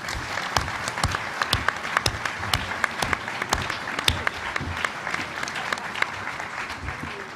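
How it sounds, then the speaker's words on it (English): A luncheon audience at the National Press Club applauds steadily, dense clapping with sharper individual claps standing out, continuing evenly throughout at moderate loudness. "Please give them a round of applause."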